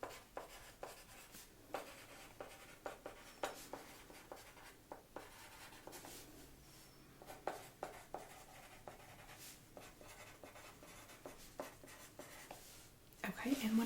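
A pen scratches across paper in short strokes at a hair consultation, soft and close, forming a steady run of faint rustling taps with quiet talk around it.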